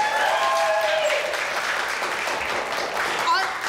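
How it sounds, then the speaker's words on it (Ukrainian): Studio audience applause for a correct answer on a Ukrainian-language game show, a dense steady wash of clapping throughout with some faint tonal sounds and voices mixed in. "Відповідь правильно, ваші оплески"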